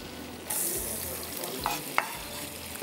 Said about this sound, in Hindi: प्याज हमने डाल दिया, थोड़ा सा इसको करेंगे फ्राई और स्लो फ्लेम पे